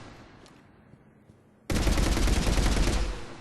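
A Revenant machine gun in Mass Effect 3 fires one loud, sustained full-auto burst of rapid, evenly spaced shots lasting nearly two seconds, following a quiet stretch.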